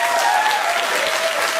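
A studio audience claps steadily and loudly, a dense wash of applause that holds at full strength throughout the short stretch with no voices above it.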